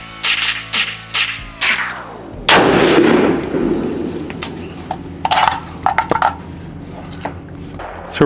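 A .223 rifle fires during a Tactical Games shooting competition: a quick string of loud, sharp outdoor shots, then a heavier blast with a long echoing decay, followed by scattered further shots and clatter.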